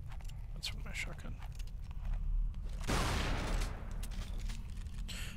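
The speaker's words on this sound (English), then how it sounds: "That's from my shotgun." A single heavy shotgun blast in Tomb Raider Anniversary, a sharp, loud crack with a brief rumbling tail, set against game ambience and a talking voice.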